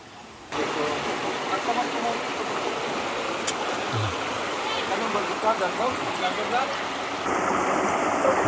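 Waterfall at Lipay falls in Jose Dalman, Zamboanga del Norte, a steady broadband rush of falling water that fills the scene throughout, with people talking over it.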